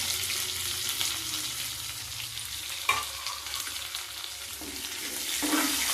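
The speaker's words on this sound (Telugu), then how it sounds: "ఇవన్నీ ఒకసారి కలిపి బాగా ఫ్రై ఫ్రై అవనిస్తామండి" Green chillies and carrot pieces fry in hot oil for puri curry, a dense continuous sizzle with occasional stirring scrapes that swells louder toward the end, no talking.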